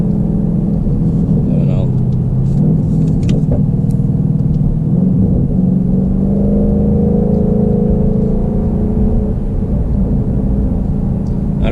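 A supercharged Ford Mustang accelerates with its exhaust valves closed, giving a loud, steady low engine rumble whose pitch rises gradually, with a person talking over it throughout.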